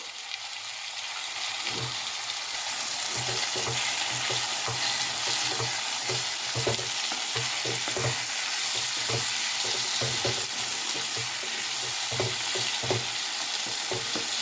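Tomatoes and tubers cooking in a pan for a Bombay duck gravy, with a continuous sizzle and frequent rhythmic stirring taps and scrapes throughout, close by and with no talking.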